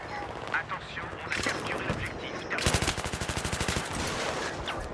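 Automatic gunfire in the Battlefield 3 video game, a rapid burst of loud, evenly spaced shots after mixed game noise, with a person talking over it.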